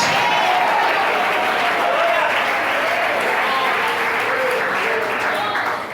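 Church congregation clapping hands in praise during a sermon, loud continuous applause with voices calling out over it throughout.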